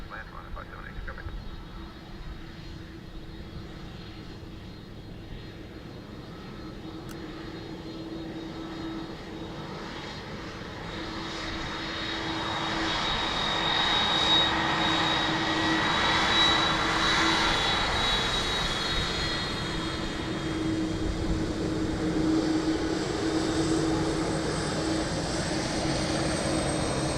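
An airliner lands on runway 28 left at Dublin Airport, its engine roar swelling from a steady hum into a louder, broad rushing whine that holds to the end, with radio-style voice chatter under the noise.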